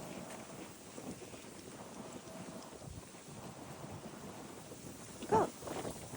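Wind blows steadily on a dog walk, a constant low rushing roar with gusty buffeting, and a short faint sound rises near the end.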